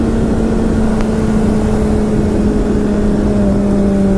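A Ducati motorcycle being ridden on a chilly day, its engine giving a steady, loud drone with a sustained low tone and a faint rising pitch, mixed with constant wind rush and no talk.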